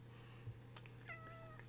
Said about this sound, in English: Got a cat just down here.